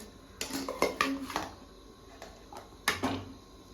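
Radishes dropped into a cooking pot give a few scattered thuds and clatters against the metal, close by and moderately loud, with a quiet pause between bursts.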